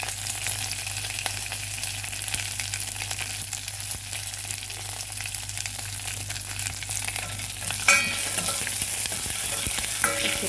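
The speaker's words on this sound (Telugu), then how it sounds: "ఇందులో ఎండుమిరపకాయలు వేస్తున్నామండి." Dried red chillies frying in hot oil in a pan for a Hyderabadi chicken biryani, a steady loud sizzle throughout with scraping stir strokes near the end.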